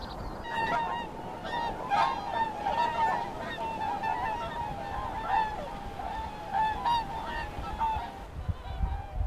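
Migratory birds at Ansim wetland, a dense flock of geese honking continuously, many overlapping calls in a busy chorus over a steady background hum.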